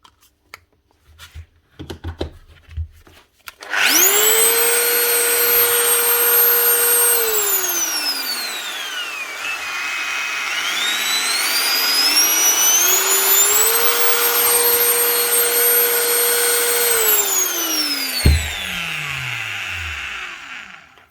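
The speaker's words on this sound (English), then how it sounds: "That's her, one flex grinder. All it needed was the plug wired correctly." A repaired Flex angle grinder with a newly wired plug, starting after a few handling clicks, whining up to full speed, dipping and rising again, then spinning down near the end.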